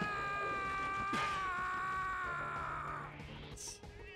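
Cats meowing in Final Fantasy VII Remake, several drawn-out, wavering meows and yowls overlapping close up over a quiet game backdrop, with a sharp higher cry near the end.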